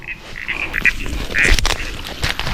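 A frog croaks in short repeated calls during a night nature walk, close and fairly loud over rustling and chirping outdoor background noise, with no speech.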